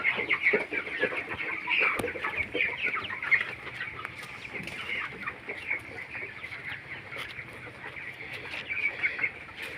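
Chickens kept on a rooftop cluck continuously in a busy, overlapping chorus, fairly close, with steady outdoor background noise throughout.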